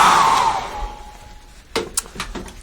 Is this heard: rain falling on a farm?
no